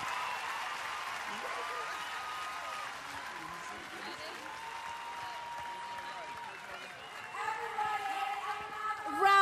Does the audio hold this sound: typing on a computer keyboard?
no